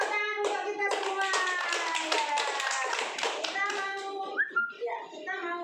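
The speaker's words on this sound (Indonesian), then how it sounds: "Tepuk tangan untuk kita semua." A classroom of children claps hands together in quick counted bursts, the claps close and loud with young voices chanting over them throughout.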